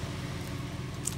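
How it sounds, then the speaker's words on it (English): A car engine drones steadily from inside the vehicle on a drive out to a shack, a constant low rumble with faint rustling and no talk. "Sorry for the engine noise if you can hear it."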